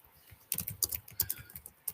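A question typed on a computer keyboard, a quick irregular run of close key clicks starting after a brief quiet moment, soft and without talking.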